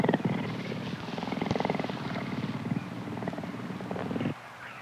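A black-maned lion's deep-throated purring rumbles steadily and close, a low continuous pulsing drone that ends abruptly.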